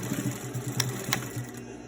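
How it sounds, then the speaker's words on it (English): Sewing machine running steadily as it stitches a second row along the pleats of a fabric face mask, a close, continuous mechanical whir with a rapid needle rhythm and a couple of brief clicks. "we sew another row of stitching about 1/4 inch away from the first row"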